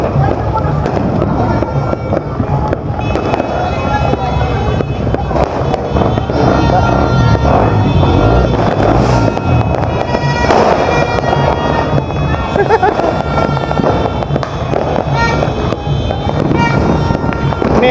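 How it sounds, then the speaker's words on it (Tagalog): Dense New Year fireworks and firecrackers crackle and pop continuously, a loud unbroken barrage of bangs near and far with no pause throughout. "Meron si kuyang paputok pero hindi kami nagpaputok"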